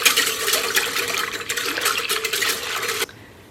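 Pretzel dough being mixed in a bowl after yeast is added, a busy steady scraping and stirring rustle with faint clinks for about three seconds, then it stops abruptly.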